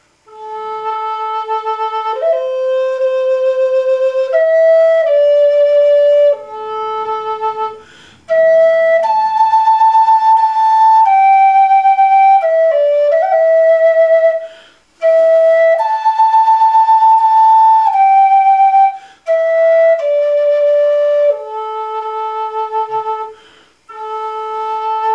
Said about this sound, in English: But the basic version of House of the Rising Sun sounds like this.